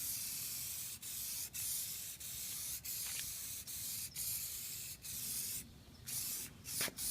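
Plasti Dip coating sprayed onto a Mustang GT: a steady close hiss of aerosol spray running for the whole stretch, broken by brief momentary pauses, with no talking.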